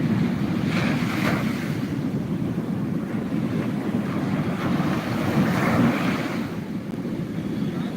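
Sea waves roar onto the beach at Puri, a heavy, continuous low rumble of surf with wind buffeting the microphone, steady and loud with gentle swells in intensity.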